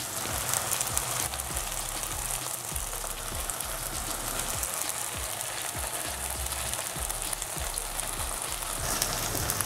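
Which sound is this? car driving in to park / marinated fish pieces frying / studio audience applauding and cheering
marinated fish pieces frying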